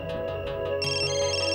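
A phone ringtone plays a bright, repeating electronic melody of short, quick notes, loud and close, with nothing else heard.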